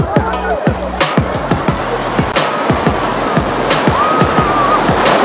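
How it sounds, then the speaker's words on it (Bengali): Sea waves break and surge onto the beach at Digha, a loud, continuous wash of surf with repeated rushes, and people's voices are audible in the background. "ও কি ঢেউ!"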